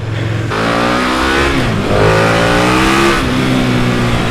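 A KTM 1290 Super Duke R motorcycle engine revs hard and close, its pitch climbing and falling in several loud successive blips with no voices.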